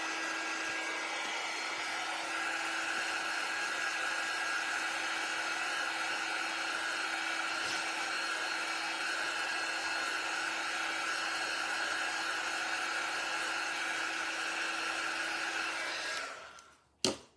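A quick dry tool blows air in a steady, loud whooshing roar with a whining hum, running continuously for about sixteen seconds before cutting off abruptly, followed by a brief click.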